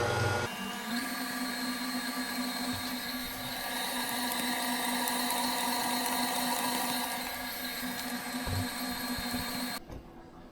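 A stand mixer with a dough hook kneads cinnamon roll dough, giving a steady motor whine and hum with a faint rhythmic thumping, running close and alone until it stops abruptly near the end.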